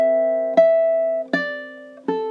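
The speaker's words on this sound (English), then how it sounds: "So that measure sounds something like this." A ukulele plays one measure of a song: three plucked notes or chords, each ringing out clearly before the next, close and alone.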